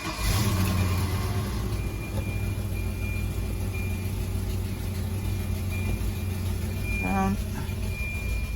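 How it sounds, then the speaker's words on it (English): A 1990 Volvo 240 engine runs throughout at a steady, loud idle close by, with a low continuous rumble and a brief squeal or chirp near the end; voices talk over it. "Let's turn the car on."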